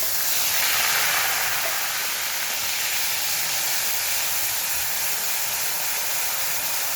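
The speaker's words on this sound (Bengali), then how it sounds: "ফোড়নে দেব গোটা গরম মশলা, এবারে পেঁয়াজ বাটাটা দিয়ে দেব।" Onion paste goes into hot oil with whole garam masala spices, making a steady, even sizzling hiss that holds close and continuous with no talk.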